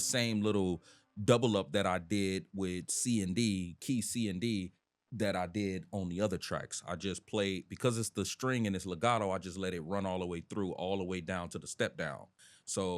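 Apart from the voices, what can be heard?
No everyday noise stands out behind the speech.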